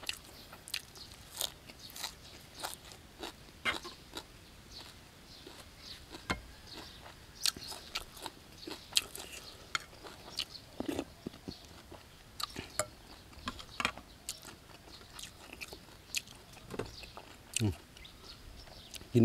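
Someone eats spicy Thai soft-fish laab with fresh garden vegetables, with close, crunchy bites and moist chewing repeating irregularly over a quiet background.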